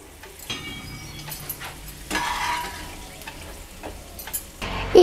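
Cashew nuts fry in a pan for a semolina sweet, giving a steady low sizzle with occasional stirring scrapes and clinks, close and moderately loud with no talk.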